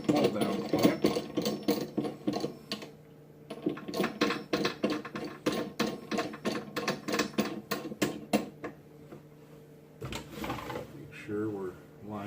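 A saw's hold-down clamp is cranked tight onto a workpiece on a bench, giving dense runs of loud ratcheting, mechanical clicks with short pauses between bursts, close and continuous over about twelve seconds.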